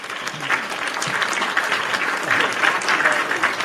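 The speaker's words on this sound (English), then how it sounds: "a round of applause for that one." Steady applause from a crowd, a dense wash of clapping hands that holds at an even level throughout.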